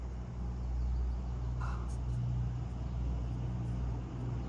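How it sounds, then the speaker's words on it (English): Steady road traffic hums close by as a continuous low rumble, with vehicles passing and a brief higher whoosh partway through, no talking. "Sorry if you guys can hear the traffic."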